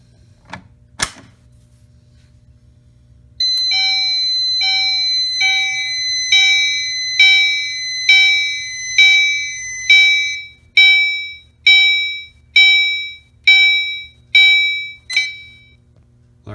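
A couple of sharp clicks, then a Fire-Lite MS-25 fire alarm system sounds a continuous repeating chime pattern, loud and steady, pulsing in regular bursts.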